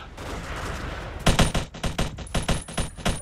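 Machine gun fire in the video game Battlefield 1942: a rapid, loud string of close bursts that begins after a second of low rumbling battle ambience and repeats in sharp, evenly spaced shots.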